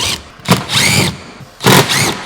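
Power drill driving number 14 tech screws into a steel girder, two loud whirring bursts with short pauses between, close up.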